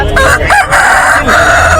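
A rooster crows loudly and close by at Bantala Hat, a busy poultry and bird market in Kolkata, with one long strained call over a background of market noise.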